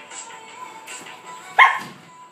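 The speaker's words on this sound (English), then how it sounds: "You don't need to bark at it." A husky playing soccer gives a single sharp bark near the middle, close and fairly loud, over a faint background hum with no talking.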